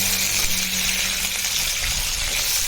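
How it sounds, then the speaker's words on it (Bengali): Potatoes fry in hot oil with previously browned onions, giving a steady, even sizzle with no voices. "আলুগুলো দিয়ে আমি একটু আলু তেলের উপরে নেড়ে চেড়ে ভাজা ভাজা করে দেবো"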